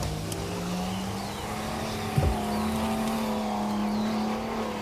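A six-cylinder car engine running steadily, a smooth continuous hum that shifts slightly in pitch with a brief thump partway through, heard alone and fairly close.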